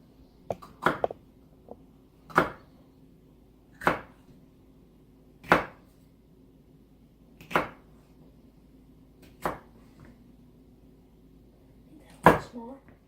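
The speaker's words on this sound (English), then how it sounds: "My favorite way to chop pepper is julienne it because it is the easiest." A knife slices bell peppers julienne on a cutting board, making sharp, separate chopping knocks spaced about a second or two apart over a faint background hum. Nobody speaks.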